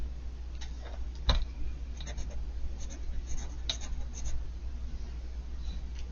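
A pen signs an illustration on paper with a few short scratching strokes, quick and close but faint over a low steady hum.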